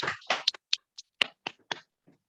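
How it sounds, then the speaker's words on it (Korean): A handful of people clap sparsely and unevenly in a church service, about nine separate claps spread over two seconds, fairly close and with no speech over them. "우리 박수로 환영하겠습니다."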